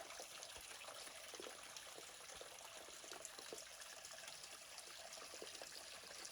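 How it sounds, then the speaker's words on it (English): A creek flowing beneath sandpaper fig trees, steady broadband trickling and babbling water heard at a moderate distance, continuous and unbroken with no voices. "there is such a beautiful energy of the creek that flows through here"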